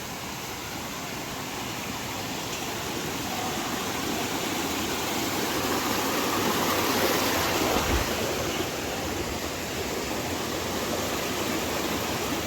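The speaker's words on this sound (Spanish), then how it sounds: "Vaya buena agua que está cayendo." Water pours down in the sierra as a steady, dense rushing roar, loud and close, broadband and unbroken for the whole stretch with no voices over it.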